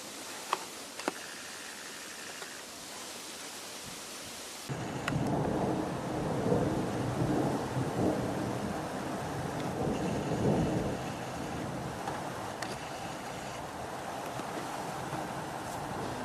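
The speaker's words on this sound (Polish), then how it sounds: "Wiatr, deszcz." Thunderstorm with wind and rain, starting as a quieter patter with faint rumbles, then swelling into steady heavy rain and gusting wind with rolling thunder that continues to the end.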